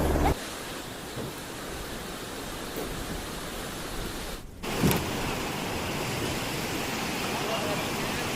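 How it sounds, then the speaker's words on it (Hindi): Loud, steady roar of dangerous river rapids rushing close by, a broadband wash of water with no break except a brief cut midway, on a small river near a bridge on the way to Gupta Dham. "ये रैपिड्स खतरनाक होते हैं।"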